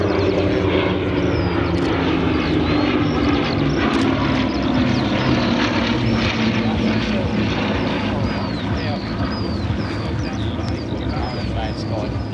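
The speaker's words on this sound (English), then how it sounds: "This is a fighter variant of the short-nosed Mark I Blenheim" Drone of a Bristol Blenheim Mark IF, a fighter variant of the short-nosed Mark I bomber, at a flying display. Its engines run at a steady, loud level throughout with a slowly shifting pitch as it passes, while an announcer talks over it.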